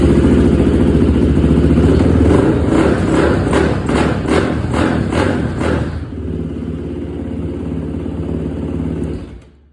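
An SSR 450 motorcycle engine that has been tuned for more power runs loud and close, revving in a rapid pulsing burst and then dropping back to a lower idle before cutting off near the end.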